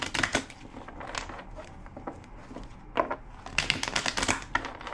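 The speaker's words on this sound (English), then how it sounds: "2 more shuffles." A deck of tarot cards is shuffled by hand at close range, brisk papery riffles and flicks coming in short bursts with brief pauses between them, without talk.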